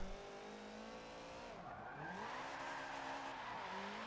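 A Subaru BRZ drift car in the video game Forza Motorsport 7, its engine droning and rising and falling in pitch as the tires squeal through slides, steady and moderately quiet with no talk.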